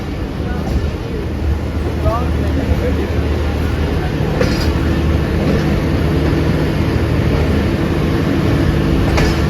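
A passenger train moves through Lodhran station in Pakistan, producing a loud, steady rumble and roar of the rolling carriages that continues without a break.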